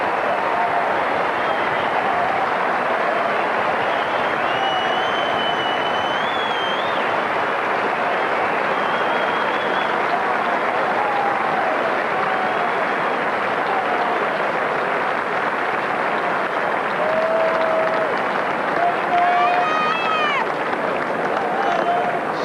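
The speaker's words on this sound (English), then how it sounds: "Listen to this crowd again. Just listen to this." A large stadium crowd at a 1999 AFL match between Brisbane Lions and West Coast Eagles roars and applauds continuously, a dense distant wall of cheering with occasional whistles and shouts throughout.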